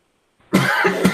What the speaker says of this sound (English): needed to cough